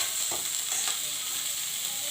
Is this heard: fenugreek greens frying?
yes